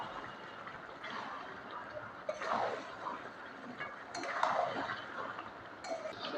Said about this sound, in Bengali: এবারে ভেজে রাখা আলুটা দিয়ে দেব।